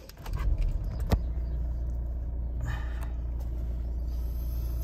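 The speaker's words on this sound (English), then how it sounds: "we'll get in the car and start her up" A 2018 Hyundai Tucson Active starts up: keys jangle, a short burst of cranking leads into a low, steady engine idle, and occasional light clicks sound inside the cabin.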